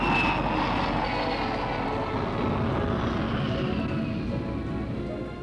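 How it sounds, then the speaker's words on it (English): Vickers Super VC10 airliner climbing away after takeoff, its jet engines producing a loud, steady broadband roar with a slowly falling whine that fades slightly toward the end. "the big plane is airborne"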